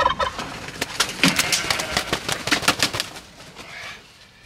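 A single turkey gobbling and fluttering nearby, a rapid run of sharp bursts that fades out after a few seconds, with no talk.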